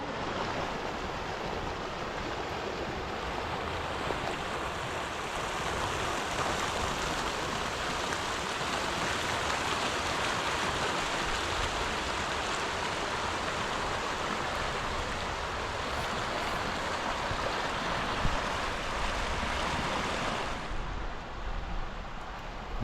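A steady, loud rush of a mountain river in Alberta, Canada, running high and flowing strongly, continuous broadband roar throughout with no pauses.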